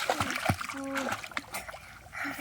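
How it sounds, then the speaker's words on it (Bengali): Water splashes as people swim in a village pond, with short close splatters and trickles under lively voices talking and calling out. "ওই দেখ কেমন সাঁতার কাটছে দেখ।"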